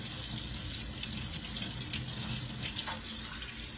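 A tap runs steadily into a sink while brushes used for wax glazing are rinsed out, a close, continuous splashing gush with no pauses.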